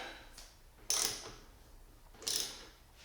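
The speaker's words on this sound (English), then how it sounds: "And we'll get a wrench and tighten those." Wrench ratcheting on the fork bolts of a BMW S1000RR motorcycle during an Öhlins front fork swap: two quick, close metallic ratchet bursts about a second and a half apart over a quiet background, no speech.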